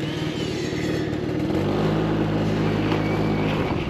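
A Husqvarna brush saw clearing a stand of saplings runs with a steady, loud two-stroke drone, its pitch shifting to a higher, even whine about halfway through as the blade bites; no voices.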